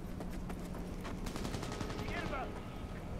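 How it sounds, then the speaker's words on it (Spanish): Rapid bursts of gunfire in the Cyberpunk video game crackle in quick succession under a game's ambient mix, fairly faint overall with a brief synthetic sweep partway through. "Tiros por aquí."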